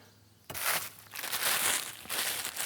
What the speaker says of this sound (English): To create your own mini greenhouse, you can use a plastic bag.